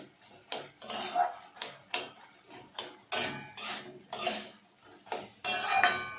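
Metal spoon scraping and clinking against a pan as sugar is stirred into a vegetarian cucumber (kankur) ghonto, a series of sharp, irregular scrapes and taps, close and fairly quiet, with no talking.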